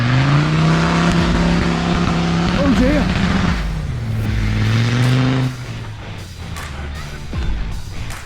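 A Land Rover Discovery 3 revving hard off-road, engine tone rising and falling through loud surges before settling to a lower rumble, with voices under the engine.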